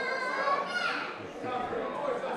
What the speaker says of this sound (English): Got a young fan in the crowd chanting